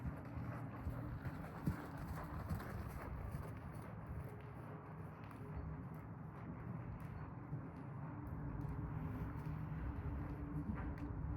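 Hooves of a horse in a riding lesson thud in a steady, faint rhythmic beat at a lope, heard at a distance over a low background rumble.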